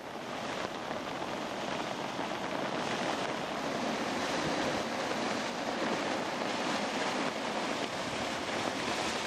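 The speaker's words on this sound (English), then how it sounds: "Waterfalls." Waterfalls in flood at Plockton and Kyle in 1999 make a steady, unbroken roar of rushing water that holds at a constant level, with wind buffeting the microphone.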